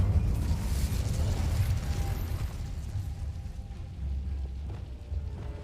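Roaring, crackling fire burst from an Incendio spell in the video game Hogwarts Legacy on PS5, a loud low rumble that fades over a few seconds with faint mechanical clicks, no speech.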